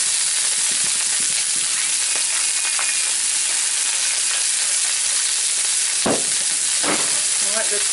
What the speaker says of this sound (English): Once your pan is heated up, then you want to throw your asparagus in.